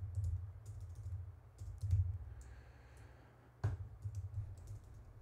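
Rapid typing on a computer keyboard, clicky keystrokes in irregular bursts with short pauses and a sharper clack near the end, close and fairly quiet over a low background hum.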